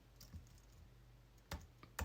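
Typing on a Mac computer keyboard, a few faint, close keystroke clicks spread across a quiet moment, with two sharper taps near the end.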